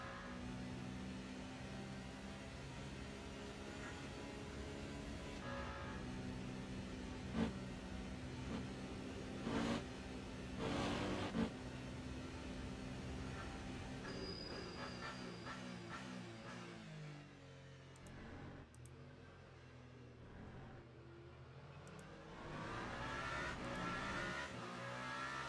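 Race car engines of a Peugeot 9X8 and a Toyota in the Le Mans Ultimate sim racing game at Spa-Francorchamps, a continuous close engine drone with rising and falling revs, gear shifts and occasional tire noise.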